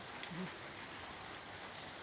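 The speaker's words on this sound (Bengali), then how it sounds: "বাইরে খুব বৃষ্টি হচ্ছে" Heavy rain falls outside, a steady, faint hiss that stays even throughout with no voices over it.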